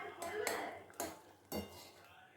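A spoon scraping and knocking against a pan while mango chutney with amchur powder is stirred, giving three or four soft metallic clinks over a steady hiss, close and fairly quiet.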